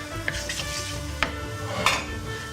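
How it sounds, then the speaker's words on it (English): Seed mix frying in oil in a pan, a steady low sizzle with a few sharp scrapes and clinks as it is stirred around. "we start off with the seed mix, which we chuck into the oil"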